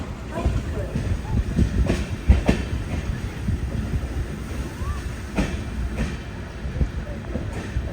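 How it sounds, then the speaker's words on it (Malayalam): An express train rolls into Madgaon railway station, a steady low rumble of wheels and carriages with periodic clacks over rail joints, fairly close, with some faint voices underneath. "ട്രെയിൻ ഇപ്പം മഡ്ഗാവിലേക്ക് എത്തിക്കൊണ്ടിരിക്കുകയാണ്."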